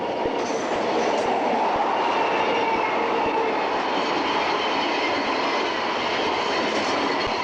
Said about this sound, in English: the big ore trains working the line